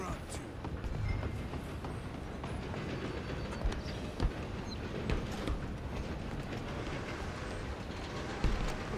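A train runs on rails in Red Dead Redemption 2, a steady rumbling clatter with occasional clanks beneath intermittent voices.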